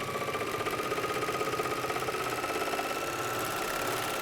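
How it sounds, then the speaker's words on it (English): A MyLock 454D serger stitching through pajama fabric, running steadily in a fast rhythmic whir with rapid mechanical chatter, close and continuous without pause. "I go ahead and sew off a little bit before I start my next shoulder"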